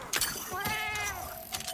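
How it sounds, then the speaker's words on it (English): A Palico cat companion in Monster Hunter Wilds lets out a drawn-out, wavering meow with short chirpy onsets, close and fairly clear over faint background game sound. "you can turn them on the feline language, and they will just make the stock meow sound"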